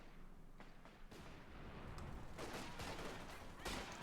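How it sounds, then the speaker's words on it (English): Dense, continuous artillery and gunfire in a Company of Heroes 2 battle, with repeated booms, mortar blasts and crackling shots layered over a steady wash of battlefield noise and no clear voices. "So much artillery though."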